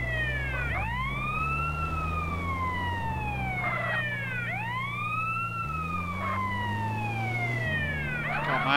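Wailing ambulance siren in the video game GTA San Andreas, sweeping up and down in repeated cycles over a low engine drone, loud and continuous with no talking.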